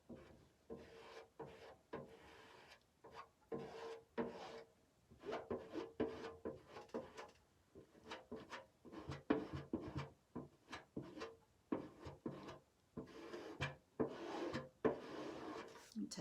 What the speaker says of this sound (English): I'm going to use the squeegee, and we're just going to put it in our ink and put over our transfer